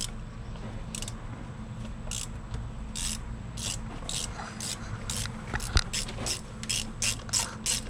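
A hand ratchet loosens the cylinder 4 spark plug on an engine being checked for a blown head gasket, giving repeated quick clicking bursts close by over a low background hum, with no talk.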